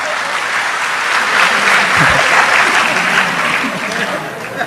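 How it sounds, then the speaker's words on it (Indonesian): Audience applause at a religious study gathering, a dense wash of clapping from a crowd, loud and sustained with a brief thump midway. "Tepuk tangan untuk Gus Kausar nggak apa-apa."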